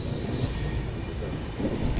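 The KR Rocket superfast express rumbles along the rails beside a hill and the Gurupura river, a close, continuous low roar of wheels and carriages without speech.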